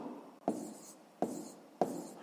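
Pen or chalk strokes on a surface while solving a sixth-grade maths exercise, three distinct scratchy bursts in a steady rhythm, close and fairly quiet with no talk over them.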